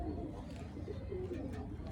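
Pigeons coo softly in a loft where several birds are kept and being colored, a low steady murmur of calls running throughout with faint background noise.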